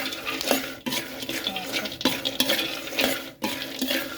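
Krabok seeds dry-roasted in a pan with a pinch of salt, stirred with a metal utensil that scrapes and rattles them in a rhythmic, repeated motion, close and fairly loud, with no talking.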